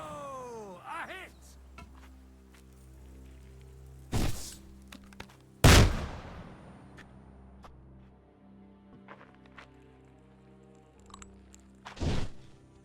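Arrows loosed at archery targets in the video game Kingdom Come land with a few hard wooden thunks, three sharp impacts spread over several quiet seconds against a low background.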